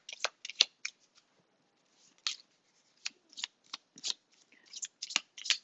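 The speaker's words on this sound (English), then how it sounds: "one last shuffle" Oracle cards are shuffled up close in a series of short, crisp riffling bursts separated by brief pauses, quiet and alone.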